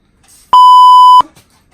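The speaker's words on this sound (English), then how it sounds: "I'll have to bleep that out." Censor bleep sound effect: a single loud, pure electronic tone lasting under a second, alone against near silence.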